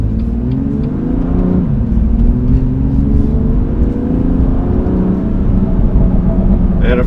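BMW M2 Competition engine revving through quick gear changes with rev-matching, pitch climbing and dropping in steady waves, loud and close throughout.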